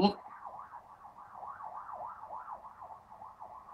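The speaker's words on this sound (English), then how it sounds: "Police car." A police car siren wails in a smooth, repeating up-and-down cycle, faint and somewhat distant, continuing steadily after a brief sharp sound at the start.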